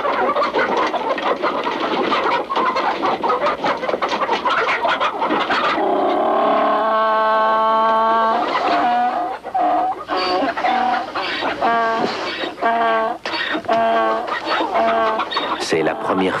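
Chickens cluck and a rooster calls in a henhouse, loud and close, with repeated rhythmic clucks over steady background sound and a voice talking over part of it.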